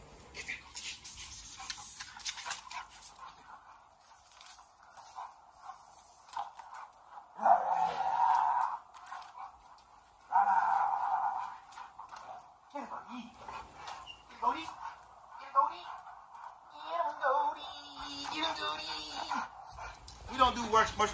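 A golden mama dog outdoors gives several loud yips and whimpering barks in bursts, with people talking over and between them.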